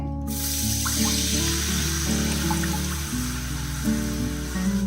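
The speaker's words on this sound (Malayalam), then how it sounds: "നമ്മൾ പുളി എടുത്തു വെച്ചല്ലോ അത് കലക്കിയ വെള്ളം ഒഴിച്ചു കൊടുക്കുകയാണ്" Tamarind water is poured into heated sesame oil in a pan for a ginger curry, giving a steady hissing pour and sizzle throughout, heard under continuous background music.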